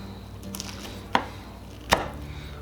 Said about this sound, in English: Let me see if I can cut that big chunk out of the middle there. And just pull that big chunk out and slice it.